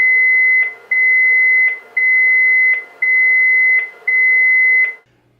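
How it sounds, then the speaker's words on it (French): A Luna IP alarm unit beeps during its initialisation cycle, sounding five even, loud, high-pitched electronic tones, each nearly a second long with short gaps, clean and close with nothing else audible. "le Luna IP n'émettra pas 3 mais 5 bips distinctifs"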